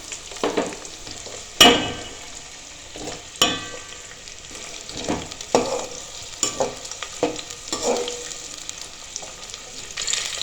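Small onions with fennel seeds frying in a pan, a soft steady sizzle broken by sharp clinks and scrapes of stirring at irregular intervals, close and moderately quiet.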